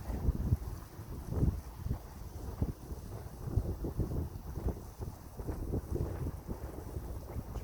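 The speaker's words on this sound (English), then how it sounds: "how much the wind is blowing" Strong outdoor wind gusts buffet the microphone at a forge demonstration, irregular rumbling blasts that rise and fall throughout with no speech.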